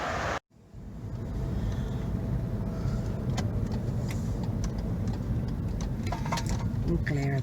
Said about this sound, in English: we got cars going past left, right and centre